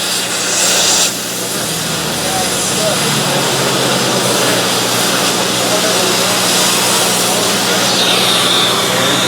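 A gas torch burning Chem-O-Lene fuel gas gives off a loud, steady broadband roar and hiss that holds evenly throughout, close up, with no popping or crackling.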